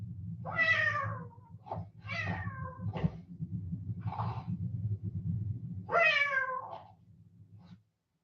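A cat meows several times, with drawn-out, pitch-sliding calls spaced apart over a steady low hum, close and clear, with no voices.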